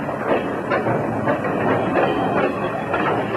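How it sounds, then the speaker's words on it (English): A train rolls slowly over badly worn, poorly maintained railroad track at about 8 to 10 miles per hour, with steady rumbling and soft rhythmic clacks of the wheels, continuous and fairly close, with no voices. "we run our trains at reduced speeds, often 8 or 10 miles per hour"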